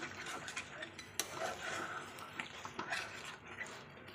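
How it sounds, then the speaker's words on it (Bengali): Chicken and small potatoes being stirred in a pan with a little water, a faint, soft scraping and clinking of a spatula with light sizzling underneath, quiet and close. "একবার নেড়ে দিচ্ছি"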